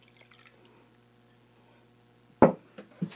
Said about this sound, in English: Now let's run the water through the filter and then we'll check it again.